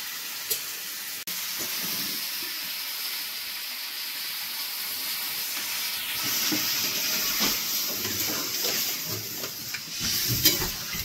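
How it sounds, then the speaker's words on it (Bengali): Water added to a pot of meat curry that has been browned for 10–15 minutes: a loud, continuous sizzling hiss with bursts of steam and bubbling that builds and stays steady, with no talk. "তারপর আমি দিয়ে দেবো এটাতে জল।"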